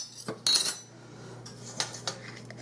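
A utensil clinks and scrapes against a bowl while flour is stirred, with a sharp metallic tap early, a short burst of clattering, then softer scrapes and light knocks, close and quiet.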